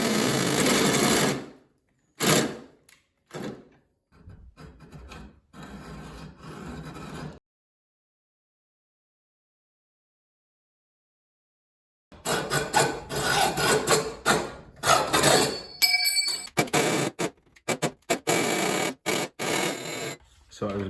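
Hole saw cutting aluminium bike frame tubing, loud close whining buzz in bursts, stopping for a few seconds of silence before resuming in uneven runs.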